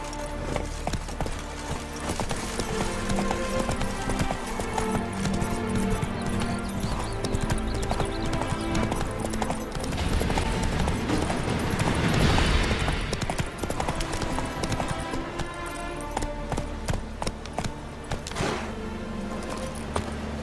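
A horse gallops in The Witcher 3 with rapid, rhythmic hoofbeats that continue throughout, along with occasional neighs and ambient game sounds, moderately loud.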